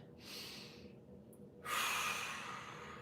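Deep breaths drawn and released during a back mobility exercise for low back pain, lying with one leg out and a knee held: a soft breath, a pause, then a louder, longer rushing exhale up close.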